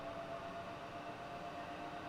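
A train rolls past in a railway simulator game as a steady, even rumble with a faint tonal whine, moderately quiet and unbroken, with no speech.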